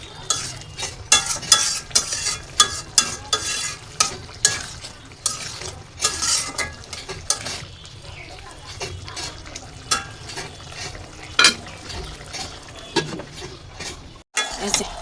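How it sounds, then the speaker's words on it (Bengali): Baby potatoes and salted hilsa frying in a pan are stirred in steady, repeated scrapes and clinks of a utensil against the pot, with a soft sizzle running underneath, close and fairly loud. "একটু লাড়া দিলাম।"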